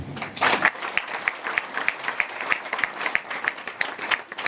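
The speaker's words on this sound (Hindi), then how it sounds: "ताली बजा दीजिए" An audience at a motivational talk claps together. A short, loose burst of clapping settles into a steady rhythmic beat of sharp, evenly spaced claps that continues to the end.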